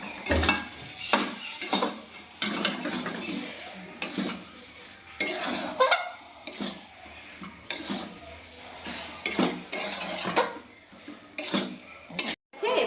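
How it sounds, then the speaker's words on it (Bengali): A spoon scrapes and clinks repeatedly against a pan as cabbage curry with garam masala is stirred, in irregular bursts over a low sizzle. "এবার ভালো করে নাড়িয়ে নেব বাঁধাকপিটা।"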